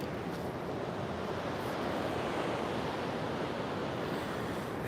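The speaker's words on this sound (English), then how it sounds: "Soak up the sound of the ocean here." Ocean surf washing onto an oceanfront shore, a steady broad hiss and rumble of breaking waves with some wind, no voices.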